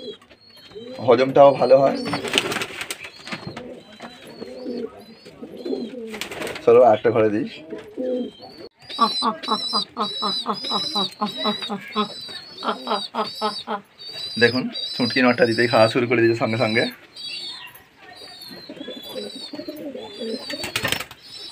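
Pigeons coo in a loft while feeding, soft repeated calls in bursts that come and go under someone talking at length close by.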